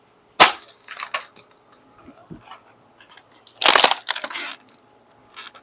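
A heavy size 13 foot stomps on a computer keyboard being broken for scrap, giving two sharp loud cracks each followed by crunching, rattling plastic and scattered clicks, close by with no voices.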